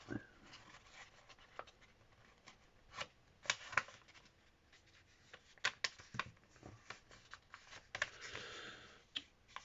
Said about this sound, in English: Now we're going to fold it the other way, in half. So I'm going to fold it.